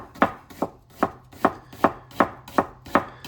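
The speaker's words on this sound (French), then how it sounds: "Et on coupe finement." A very sharp knife finely chopping vegetables for guacamole on a board: eight crisp, evenly spaced thuds in a steady rhythm, close and clear with no talk.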